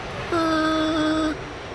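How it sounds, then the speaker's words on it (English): In a flight simulator game, an L-39 Albatross jet's brakes give a steady tonal hiss with a high whine that rises for about a second, then cuts off, over a low background hum. "That's the sound of me pressing the brakes."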